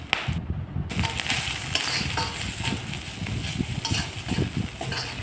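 Onion and ginger fry in a pan with cumin powder added, giving a steady close sizzle under scraping and stirring from a spoon, with occasional light clinks.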